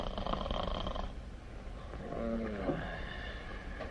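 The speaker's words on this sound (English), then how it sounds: "All he does is snore." A sleeping man snores in a 1940s Western film scene, with a ragged, rasping inhale that has a throaty tonal buzz, heard faintly under a noisy, hissy background.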